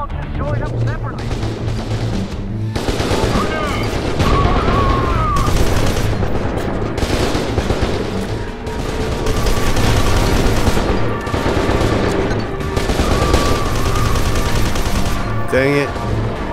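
Gunfire in the first-person shooter F.E.A.R. 2, with repeated bursts of automatic weapon fire and shots throughout and brief pauses between volleys, mixed with game sounds. A player talks over it now and then.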